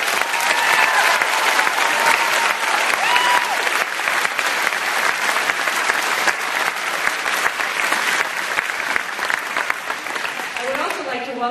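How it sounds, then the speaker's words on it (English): A large crowd applauds graduates at a 2017 high school graduation ceremony, loud sustained clapping that fills the hall and tapers slightly as a voice returns at the end. "to ask for another huge round of applause for these graduates"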